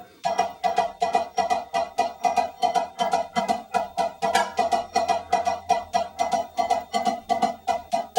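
A drum line double stroke roll exercise played alone on a drum, a steady stream of evenly spaced paired strokes with a marching pulse, close and clear, running continuously without a break.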